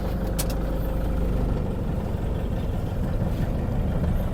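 A used Toyota Vigo pickup truck's engine runs steadily on a test drive, a continuous close low rumble with road and cabin noise and no speech.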